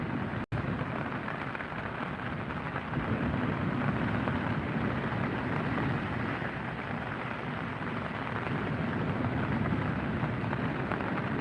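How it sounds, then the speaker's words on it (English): Steady rain falls in a dense, even hiss, loud and continuous, with one sharp click near the start, during a live sea-fishing session from a kayak; nobody speaks. "This was definitely meant to stop by now, this rain."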